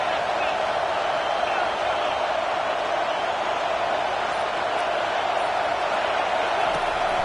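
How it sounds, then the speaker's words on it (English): A South Carolina football stadium crowd roars steadily and loudly on third down as the defense takes the field, a dense, unbroken wash of noise. "Decibels rising as the crowd gets behind this defense on third down."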